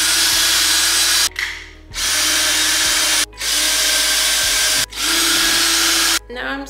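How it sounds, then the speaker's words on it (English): A Ryobi cordless power drill fitted with a DeWalt bit whirs into a wall in four sustained bursts, each a few seconds long, separated by short pauses, loud and close. "I need to get a drill bit on my drill. I use the Ryobi cordless"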